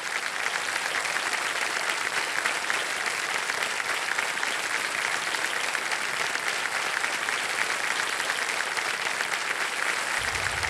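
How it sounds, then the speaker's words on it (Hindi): Sustained loud applause from a large audience, steady and dense clapping throughout with no pauses. "एक बार जोरदार तालियां बज जाए इनके लिए।"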